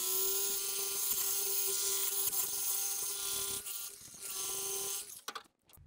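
Diamond coated wire wheel grinding mill scale off steel, a loud, steady whine with a constant pitch that runs for about five seconds, then spins down and stops.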